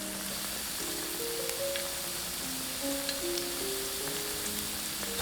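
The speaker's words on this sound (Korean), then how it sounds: "밝은 팬에 기름을 두르고 당근부터 볶아줍니다" Carrots stir-fry in an oiled pan, a steady close hiss of sizzling with faint scraping of stirring, while soft background music plays.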